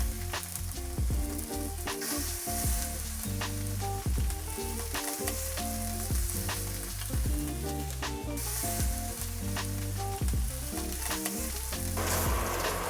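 Lamb cutlets sear fat side down in a hot, oil-free pan, giving a steady, dense sizzle and crackle of rendering fat that runs close and loud throughout, with no talking.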